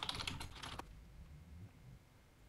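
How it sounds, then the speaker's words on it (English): A short flurry of close keystrokes on a computer keyboard as a search query is typed, lasting under a second before falling quiet into faint room hum. "So if I type in March special days list,"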